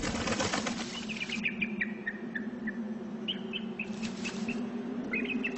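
Birds flap their wings inside an abandoned office building, a steady soft fluttering bed with scattered faint chirps and tweets over a continuous background hum.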